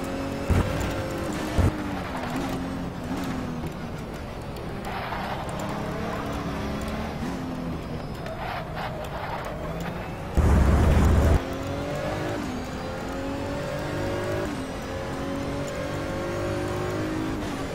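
A Viper race car in Race 07 roars around the Interlagos circuit, its engine holding a steady loud whine with rising revs and gear changes and one brief heavy thump partway through, with no talk.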